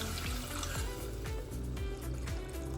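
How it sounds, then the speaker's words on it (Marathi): Reserved lentil water being poured into fried spices in a pan, a close gurgling splash with bubbling and sizzling bursts throughout, fairly quiet and continuous. "मसाले छान परतून झाले ना की आता आपण ही डाळीचं पाणी काढलं होतं ते घालूया"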